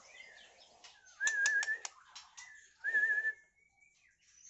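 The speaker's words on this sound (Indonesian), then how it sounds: "Guys, suara HP tak puterne YouTube. Ada burung masteran alami juga, kenari dan labet." Songbird calls, canary and labet song played back from a phone's speaker: short whistled trills and a few sharp chirps in two bursts, fairly quiet and without any talk.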